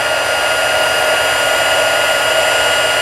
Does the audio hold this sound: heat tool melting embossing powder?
yes